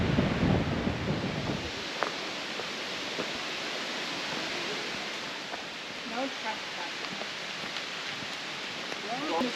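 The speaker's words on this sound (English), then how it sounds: "That is some kind of wind out here." Strong wind at the Ravens Point overlook on Tennessee's Fiery Gizzard Trail roars steadily across the microphone, a dense, unbroken rush with faint scattered sounds beneath it.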